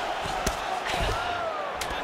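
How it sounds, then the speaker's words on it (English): Arena crowd at a UFC women's fight night roars and cheers steadily after a ground battle, a dense wash of voices with scattered thumps and shouts throughout. "you heard the crowd pop after that grueling ground battle"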